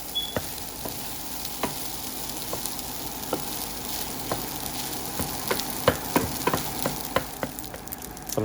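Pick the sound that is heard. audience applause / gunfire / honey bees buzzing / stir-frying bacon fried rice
stir-frying bacon fried rice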